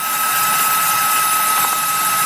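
A rotary power tool spins a yellow Typhoon saber tooth bit into cottonwood bark, giving a loud, steady high-pitched whine with a gritty grinding edge that runs unbroken from start to finish, close up and without speech.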